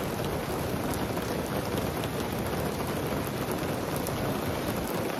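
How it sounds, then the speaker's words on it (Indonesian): Steady, dense rain falls without a break, a constant loud hiss of drops with no voices and no pauses. "lihat ke bawah juga hujan, tetap aja nggak bakal berhenti"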